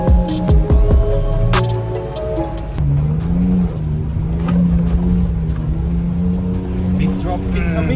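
Vehicle engine drones steadily while pulling stuck cars out, a loud close hum that shifts pitch as it strains, with people talking over it.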